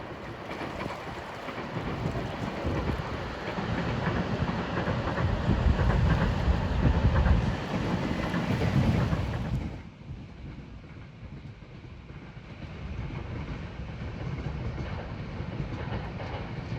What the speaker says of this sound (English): approaching at 5:22 is train 747.